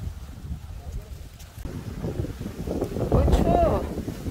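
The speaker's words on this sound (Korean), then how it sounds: "바람이 좀 많이 부네요." Strong wind gusting across an exposed mountain ridge, a loud, rough low roar buffeting the microphone and swelling toward the end, with a person speaking briefly over it.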